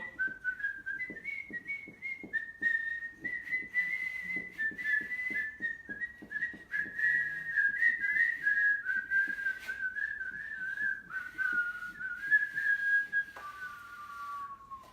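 A person whistles a wavering tune continuously, fairly faint, with soft tapping or clicking in the background.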